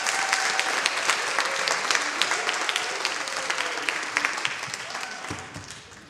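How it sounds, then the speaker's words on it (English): Audience applause for student contestants at a school geography bee competition, steady dense clapping throughout that thins slightly toward the end, with a few faint voices mixed in. "Let's give a big round of applause for our student contestants up here."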